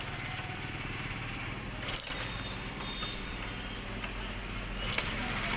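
A motorcycle engine runs steadily after a kick start, a rough, continuous mechanical drone with a few sharper knocks, sounding close and fairly loud for the whole stretch.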